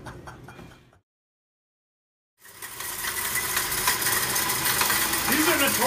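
A noisy Saab AC compressor runs with a loud, steady, rattling whir. It follows a brief stretch of engine noise and a sudden gap of near silence.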